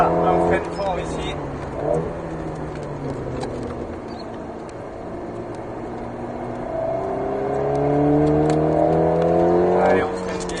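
An Alpine A110S on the Alès race circuit, its engine note climbing and falling through gears as it brakes and then accelerates hard, loud inside the cabin with people talking over it.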